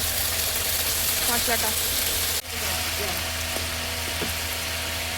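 A spice paste of onion, garlic, ginger and tomato fries in a pan with a steady sizzle close by, plus a brief clatter partway through and light stirring over low kitchen hum.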